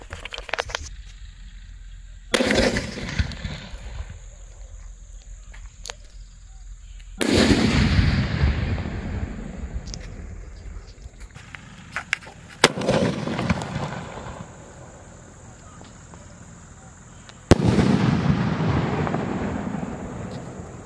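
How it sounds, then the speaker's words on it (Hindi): Golden Lines sky shot fireworks for Diwali launch and burst in four or five loud separate volleys, each sharp crack followed by a long crackling, hissing tail, spaced a few seconds apart outdoors with no talk. "तो अब इसको बिना देर किए हुए जलाते हैं"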